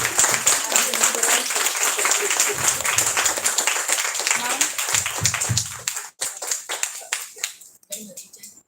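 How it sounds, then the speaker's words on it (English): Lecture audience claps in sustained applause for about six seconds, a dense steady patter that thins into scattered claps and fades near the end. "So let's have a huge round of applause for Dr. Himanshu Thakkar."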